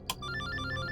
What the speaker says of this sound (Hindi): रात को 3:30 बजे भी अनजान नंबर से फोन